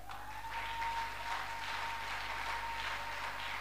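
A church congregation claps together in a sustained, even round of applause heard from within the room, moderately quiet, with a faint held tone beneath it and no talking.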